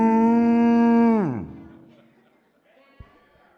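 A human voice imitates a cow mooing with one long, loud, sustained moo that drops in pitch and fades away, followed by a few faint noises.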